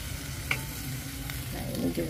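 Seblak ingredients with lime leaves sizzle and crackle steadily as they are stir-fried in a pan, with occasional scrapes of the utensil while a voice speaks briefly.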